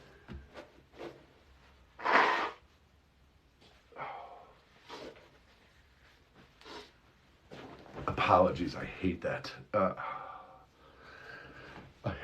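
A loud nose blow bursts out early, followed by scattered sniffs and rustling while a person speaks in between.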